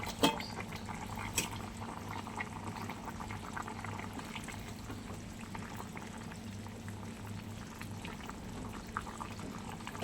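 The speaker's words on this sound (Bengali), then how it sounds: "আর এই আমার তরকারি বেশ ফুটে উঠেছে আর একটু ফুটুক" Fish and yam curry bubbling steadily in a pan, a continuous close simmering hiss with faint pops throughout and a few brief clinks, no talking.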